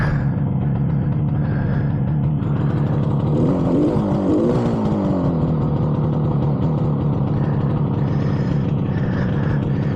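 A 1967 Yamaha YR1 motorcycle engine idles unevenly while warming up, running rough and smoky, a steady close low rumble with a brief swell around the middle and no voices.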